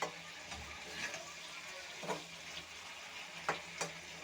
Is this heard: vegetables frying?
yes